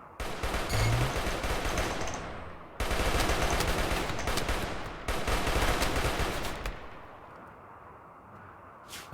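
Sustained automatic gunfire from a mini turret in RimWorld, loud dense bursts of rapid shots in three long volleys with brief gaps, tapering off into a quieter rumble at the end.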